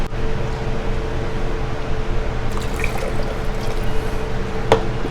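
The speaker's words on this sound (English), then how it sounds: "I'm going to put some brine in each of them" Pickle brine poured into four canning jars for Polish pickles, a steady wet trickle and splash running throughout at close range, with a brief bright clink near the end.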